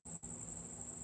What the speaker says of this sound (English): those are cicadas. They're not crickets. They're loud.